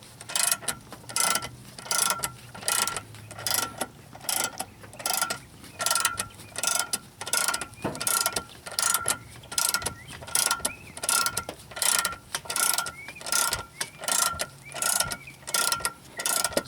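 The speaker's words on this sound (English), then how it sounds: "Then that way I can jack up the car right here." A 2-ton jack ratchets up under a Ford Taurus, its handle pumped in a steady clicking rhythm of mechanical strokes, close by and alone with no talking.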